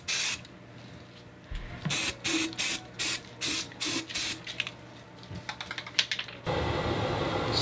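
Spray can painting a homemade decorative vase, a series of short, close hissing bursts in an even rhythm, followed by one longer continuous spray.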